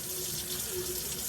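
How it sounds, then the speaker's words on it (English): Water running steadily from an opened faucet in the fresh water system of a Back Cove 37 boat, a continuous close hiss with a faint tonal hum underneath, no talking. "we're just going to turn on the faucet there, and we're going to let each faucet open"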